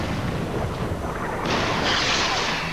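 Bombs exploding during the Gulf War, heard as a dense, continuous roar of blasts and rumble that swells louder and brighter halfway through, with no distinct single impacts.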